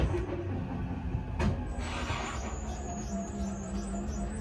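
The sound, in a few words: camper slideout motor running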